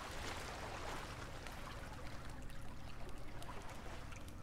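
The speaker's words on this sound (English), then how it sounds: "looks like we're going through the water" Wading through water in a cave in the survival game The Forest gives a continuous, fairly loud sloshing and churning wash with no voices.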